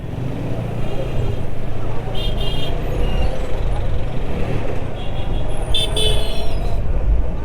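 A road jammed with traffic, with loud, steady engine rumble from cars, trucks and buses close by, a brief high air-brake-like hiss and a voice speaking over the din.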